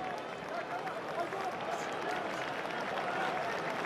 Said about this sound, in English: Applause you might hear in the background off of Luatua just leaving.